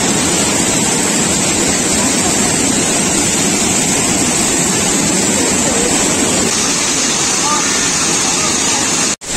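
Tanawan Falls in Dingalan, Aurora, a loud, close, unbroken rush of falling water that fills the scene, with voices mixed faintly into the roar before it cuts off abruptly.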